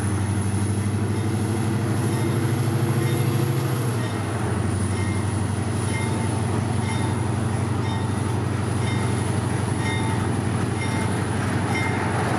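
A pair of GE Dash 9 diesel locomotives, paint-splattered from an overpass spill, roll past with a continuous heavy engine drone and rumble, a steady whine riding on top, loud and close throughout.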